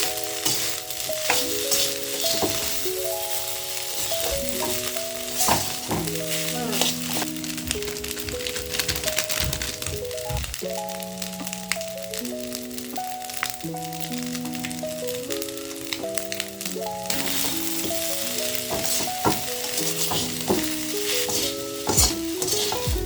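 Fried rice made from freshly cooked rice being stir-fried in a pan, sticking as it cooks: a constant sizzle with scraping and rattling stirs, heard under background music with no talking.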